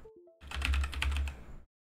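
A short burst of rapid typing on a computer keyboard, close and fairly quiet, with a few quick clicks before it and silence right after.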